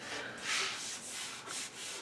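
Sandpaper rubs steadily over a wooden coffee table in repeated back-and-forth strokes, a close, soft, even scratching with no talk.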